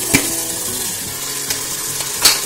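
Dal being tipped into a hot pressure cooker in a home kitchen, giving a steady close sizzle and frying hiss throughout, with a few sharper clatters of the pot and ladle, no talk.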